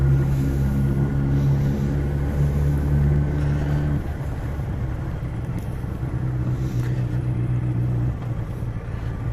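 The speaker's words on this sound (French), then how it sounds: "Donc Mamie Blue, c'est une Honda CBR 1000F." A 1993 Honda CBR1000F motorcycle with a carburetted engine idles nearby, a steady low rumble that shifts in tone partway through, with no other sounds.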